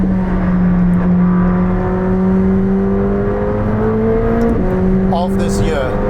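McLaren 765LT supercar engine droning steadily close up as the car drives, a sustained tone that rises gradually then drops at a shift, with speech over the top.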